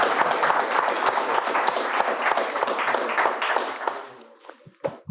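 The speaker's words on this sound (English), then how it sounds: "Let's give her a big round of applause." Audience applause at a space security policy event, dense clapping that fills most of the clip before thinning out into a few scattered claps near the end.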